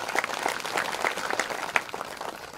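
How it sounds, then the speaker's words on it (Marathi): A gathering at a spiritual centenary festival gives a quiet, scattered round of applause, the claps sounding distant and fairly faint throughout. "दादासाठी एकदा टाळ्या वाजवा"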